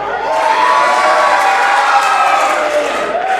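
A pro wrestling crowd at a live show in Colac roars and cheers loudly for the hometown champion, a dense wall of shouts and whoops that swells and holds steady.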